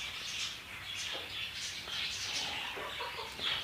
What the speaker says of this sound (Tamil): அதில் இருக்க குஞ்சுகள் நாட்டு குஞ்சு.